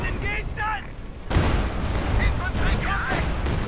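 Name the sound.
artillery fire in Company of Heroes 2 video game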